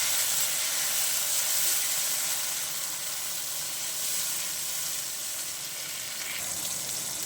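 Chopped tomatoes, onions and green chilies frying in hot cooking oil, giving a loud, steady sizzle and hiss close up that lasts throughout.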